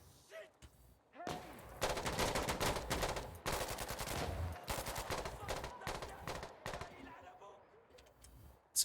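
Rapid bursts of automatic gunfire crackle in a Battlefield PvE match against bots, dense volleys with brief gaps, fairly close and loud.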